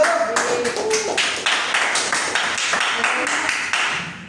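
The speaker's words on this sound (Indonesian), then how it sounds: "Kita tepuk tangan lagi untuk kelompok 1." A classroom of students applauds a student group, a burst of many hands clapping in a lively, uneven patter that carries on steadily at close range with no voices over it.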